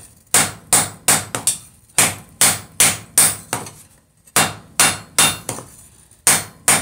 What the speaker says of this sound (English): I'm gonna use my trusted rawhide mallet. Straighten some goofiness out here.